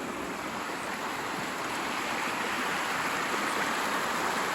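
Water from a pond outlet tumbles down a small hillside gully toward a creek, a loud, steady rushing wash close by with no voices.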